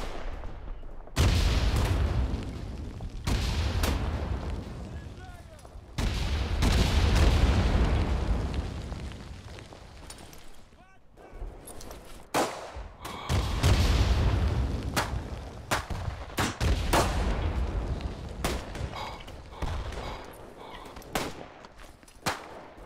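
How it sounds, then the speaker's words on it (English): Mortar shells burst repeatedly in the WWI video game Tannenberg, a series of loud, booming explosions with rolling rumbles and sharp cracks spread across the battlefield, some close and heavy, others shorter and more distant. "Dropping some more mortars there."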